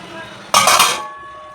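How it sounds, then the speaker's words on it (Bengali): Kadai chicken stirred in a pan, a brief burst of metallic scraping and clinking lasting about half a second, close and fairly loud. "একটু নাড়াচাড়া করে নিচ্ছি বন্ধুরা দেখুন বন্ধুরা"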